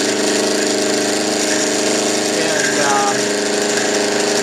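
A mini lathe cutting with an end mill gives a steady, loud mechanical whine and grind with dense harmonic buzz, continuous throughout, with a brief voice near the start.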